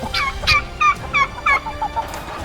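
Several turkeys gobble in quick bursts, a few loud warbling calls spaced about half a second apart, fairly close and otherwise quiet.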